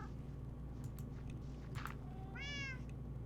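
Cat meowing in the Minecraft video game, one clear rising-falling meow near the end of a quiet stretch with faint soft clicks and game ambience.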